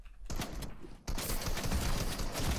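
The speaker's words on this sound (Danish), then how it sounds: "Et shotgun skud tilbage derovre." Shotgun blasts in the Fortnite video game ring out as a dense run of loud, sharp bursts, with a brief lull before a second stretch of rapid, overlapping shots.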